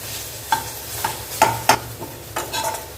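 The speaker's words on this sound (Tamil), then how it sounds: "இப்போ ஈரப்பதம் போக நம்ம நல்லா வதக்கி எடுக்கலாம்" Ingredients stir in a hot pan while the moisture cooks off, producing a soft ongoing sizzle with several sharp spatula scrapes and taps on the metal, close by and without speech.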